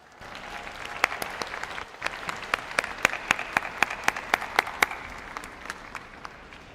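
Applause at a high school commencement ceremony, with thin, distinct claps in a large space that swell in the middle and then thin out again toward the end.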